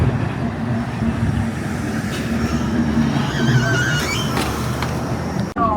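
A New Orleans streetcar pulls in with a steady rail rumble and rising metallic squeal and hum, loud and close, continuous throughout before cutting off abruptly at the end.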